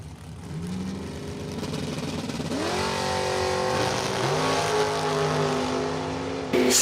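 A dragster and a Mustang accelerate down the strip at a Summit ET finals drag race, engine notes rising and shifting through gears, loud and sustained with overlapping engine tones.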